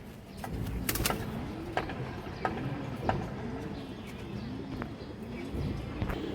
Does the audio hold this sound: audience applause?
no